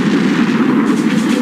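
The German battleship Bismarck's main guns firing a salvo at the battleship Rodney, a loud, sustained, heavy roar with a deep rumbling body and no speech.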